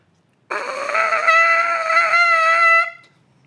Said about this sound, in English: You make a trumpet sound by buzzing your lips